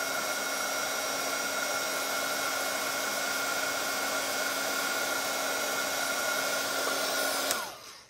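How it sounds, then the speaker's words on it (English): Heat tool for paper crafting blows hot air in a steady, loud whine with a fan tone, running continuously before switching off and spinning down at the very end; no talking. "And hit it with the heat tool until it's nice and shiny."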